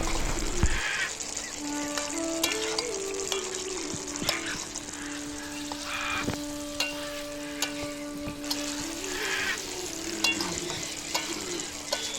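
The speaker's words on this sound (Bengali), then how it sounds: "আমরা এখন দিয়ে দিলাম কড়াইতে আমাদের ভেজে রাখা কাঁঠালগুলো" Fried jackfruit pieces tossed into a kadai of cooking meat curry give a steady, close sizzle with repeated scrapes and clinks of stirring throughout.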